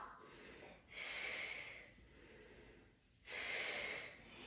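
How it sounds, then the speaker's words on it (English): Strong, airy breaths during a mat Pilates workout: two long forceful exhales and inhales through the mouth and nose, close to the microphone, separated by a quieter pause. "Big exhale and inhale."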